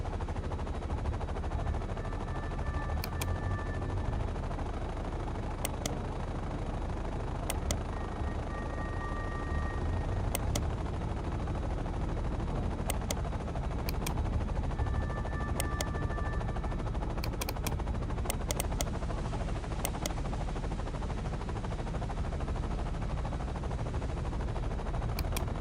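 Gunfire from a Delta Force video game firefight, with steady bursts of automatic weapons fire and sharp shots over a dense, constant background of battle noise for the full stretch.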